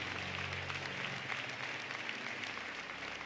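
A church congregation claps together in a dense, steady wash of applause that lasts a few seconds, filling the room evenly without pause.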